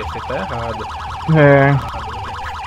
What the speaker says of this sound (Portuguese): sirene chata do caramba